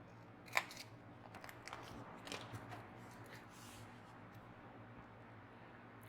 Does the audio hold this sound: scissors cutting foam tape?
yes